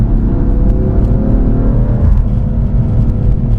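A BMW F82 M4 lowered on Swift springs drives through turns, its engine droning loud and steady from inside the cabin with a brief rise in revs and a road rumble underneath.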